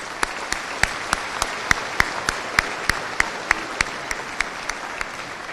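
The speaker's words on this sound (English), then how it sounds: "Please join me in one final round of applause as we thank all these individuals for their commitment to you and your experience." Graduation ceremony audience claps in a steady rhythmic round, sharp evenly spaced claps roughly three per second against a soft crowd murmur.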